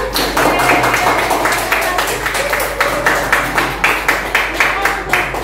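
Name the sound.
class applauding group 1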